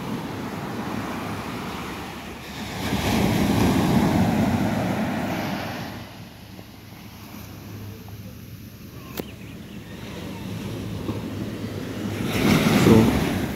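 Heavy surf washing ashore on the Kenyan coast at Mombasa, with boats moored nearby; waves swell and recede in slow, loud surges under steady wind buffeting, with no talking.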